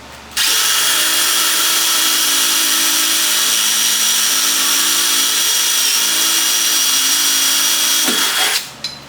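A power drill with a small bit runs continuously for about eight seconds, drilling out rivet centers on a Z28 rear bumper, a loud high whine close by that stops abruptly at the end.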